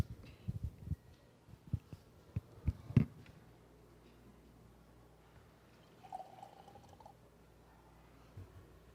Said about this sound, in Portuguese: Só vou tomar um gole de água aqui